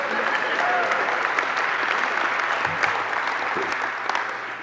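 Applause from part of a large audience of about a thousand people at a comedy show, a steady dense clapping that holds throughout at moderate loudness, with a few sharper claps standing out near the end.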